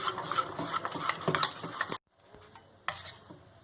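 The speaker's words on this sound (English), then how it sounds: "again give it a gentle whisk" A whisk gently stirs jalebi batter in a bowl, giving soft scraping swishes and light clinks against the sides, then stops briefly before a few quieter strokes resume.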